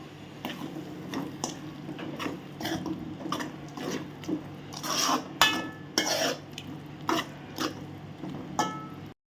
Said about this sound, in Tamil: இப்போ இது எல்லாத்தையுமே நல்லா மிக்ஸ் பண்ணிடுவோம்.